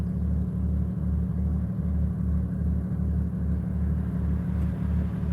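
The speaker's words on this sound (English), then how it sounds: "Man, his car is loud." A loud car engine rumbles continuously with a deep, steady low-pitched throb and regular pulsing, close by and alone with no talk.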